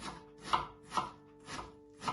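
A knife chops onions on a cutting board in a kitchen, five distinct, evenly spaced thuds in a slow, steady rhythm, close and clear with no talking.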